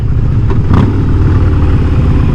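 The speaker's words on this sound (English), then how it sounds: "Oh, those downshifts are nice" A Harley-Davidson cruiser motorcycle rumbles loudly and steadily up close, its low engine note shifting briefly as the rider downshifts.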